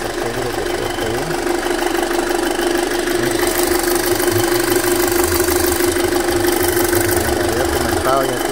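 A 2008 Audi A4 2.0 runs at a steady idle close by, a continuous mid-pitched engine drone with a faint rhythmic knock, while someone talks over it.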